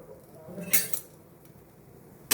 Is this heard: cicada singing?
no